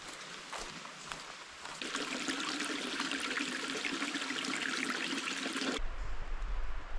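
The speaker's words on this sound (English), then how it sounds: "Just a little stream crossing here." A small stream rushes at a hiking trail crossing in the White Mountains of New Hampshire, a steady close splashing flow that swells after a couple of seconds and continues unbroken, with no voices.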